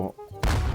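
A cannon fires in the Roblox obby game Escape Robot Factory, a single sudden loud boom that cuts in abruptly after a brief quieter moment and stays loud to the end.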